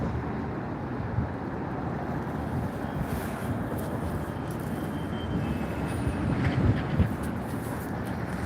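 Train running along railroad tracks, a steady broadband rumble and rushing noise heard from nearby with wind buffeting the microphone, continuous throughout.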